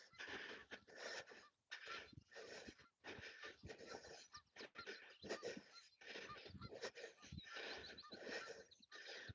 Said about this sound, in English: They're geese. You can hear them giving it old large.